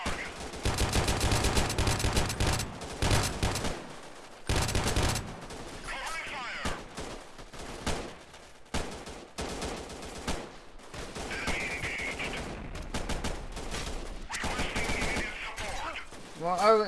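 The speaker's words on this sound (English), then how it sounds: "Stop shooting me." Gunfire from the video game Freeman: Guerrilla Warfare, loud rapid automatic bursts and single shots in uneven volleys with brief pauses, mixed with faint game sounds and occasional talking.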